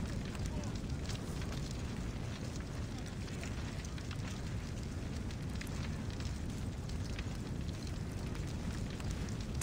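In Assassin's Creed Odyssey, fire burns with a steady, dense roar and crackle that holds at the same level throughout, with possible faint voices underneath.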